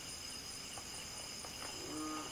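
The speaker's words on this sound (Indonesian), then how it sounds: "Nah, tuh ada suara kodok." Frogs croak at a windy night campsite, with one low, drawn-out call near the end rising over a steady hiss of insects and wind.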